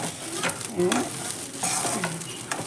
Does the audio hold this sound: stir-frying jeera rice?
yes